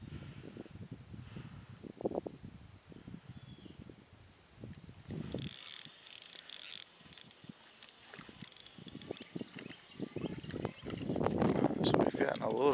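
A poor-quality fishing reel cranks on a creek bank during late-November crappie fishing, giving quiet bursts of clicking ratchet noise in short runs, with wind and low background rumble.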